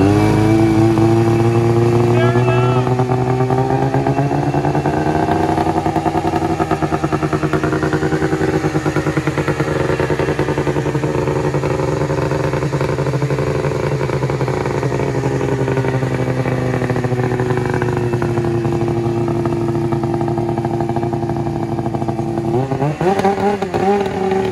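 A snowmobile engine revs loudly and continuously at close range while the machine is loaded onto a truck, its pitch rising and falling with throttle changes and climbing sharply at the end.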